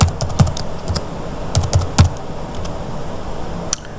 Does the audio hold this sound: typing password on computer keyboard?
yes